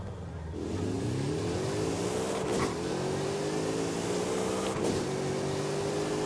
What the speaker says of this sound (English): Yep, you can hear the turbo.